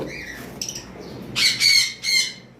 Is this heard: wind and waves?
no